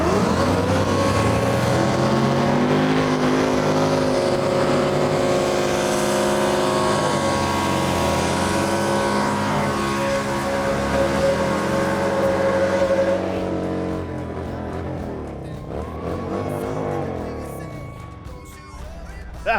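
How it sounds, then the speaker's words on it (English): A burnout car revs hard and roars continuously during a burnout at a drag racing event, loud and close with steady engine harmonics, then easing off near the end as crowd noise and voices come through. "Let's go watch Kevin do burnouts"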